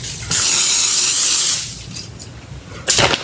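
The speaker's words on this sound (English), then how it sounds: "We're gonna get some Pam and we're gonna spray it so, you know, our biscuits don't stick." Pam cooking spray hisses onto a biscuit pan in one long, loud, steady burst lasting about a second, followed by a short second spritz a moment later, close by with no talking.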